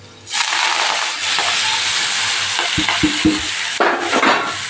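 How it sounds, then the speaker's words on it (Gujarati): Fenugreek leaves hit hot oil with garlic cloves and asafoetida, setting off a loud, steady sizzle that continues throughout. Several clanks of a spoon against the pan cut through it near the end. "અહીં આપણે મેથીની ભાજી ઉમેરી દઈશું"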